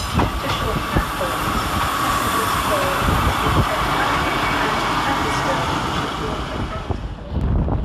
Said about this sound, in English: Arriving next into the station is 150251 with the 1210 Transport for Wales service from Manchester Piccadilly to Carmarthen.